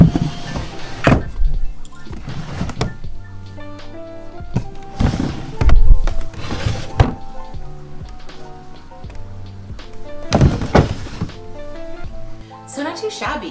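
Dresser drawers slide open and shut with several wooden thumps and scraping rattles at irregular intervals, close by, under background music.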